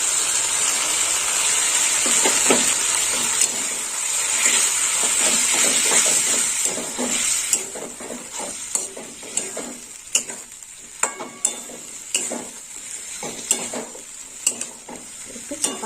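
Tomato paste goes into a sizzling pan of okra and potato curry, giving a loud hiss that settles into frying crackle, then a series of regular scraping stirs and clinks of a spatula against the pan.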